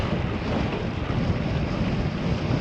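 Wind roars across the microphone of a cyclist riding into a headwind on Ramsey Road near Kingwood, a loud, steady, broadband rush with no voices over it.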